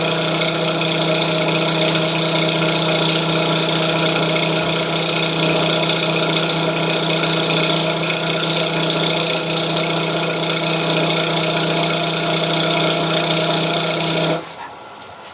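A wood lathe turns a platter while the cutting tool works the surface, giving a loud, steady motor drone with a scraping hiss that runs unbroken and then cuts off abruptly near the end.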